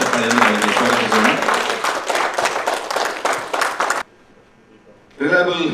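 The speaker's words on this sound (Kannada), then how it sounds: "ಗಟ್ಟಿ ಚಪ್ಪಾಳೆಯನ್ನು ಅವರಿಗೆ ಸ್ವಾಗತಿಸೋಣ." An audience at a stage event gives a guest a loud, dense round of clapping that welcomes them and cuts off sharply into near silence, then a voice begins speaking.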